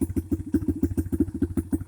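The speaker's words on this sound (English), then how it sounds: "Let the motor run for a little bit so the oil can drain a lot smoother." A Tao Tao 125cc dirt bike engine runs at idle, a steady, rapid, close thumping pulse with a faint mechanical clatter and no talking.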